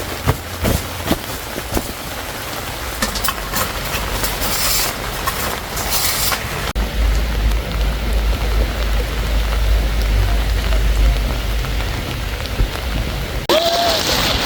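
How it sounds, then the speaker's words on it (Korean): Rain patters on a camping tarp during rainy car camping in Cheonan, a dense continuous drumming close overhead with sharper scattered hits early on, then a heavier steady wash with low rumble in the second half. "비가 한 번에 부딪혀가지고 타프를 올려야 될 것 같아요"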